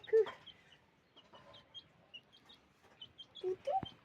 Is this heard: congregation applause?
no